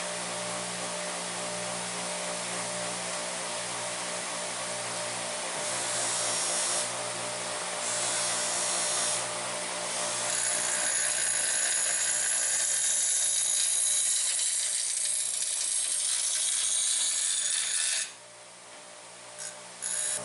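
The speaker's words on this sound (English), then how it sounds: "I'm now starting to reprofile the knife blade with this grinder." A grinder reprofiling a kitchen knife blade gives a continuous high, whining grind that holds steady for a long stretch, rises slightly at times and drops away briefly near the end.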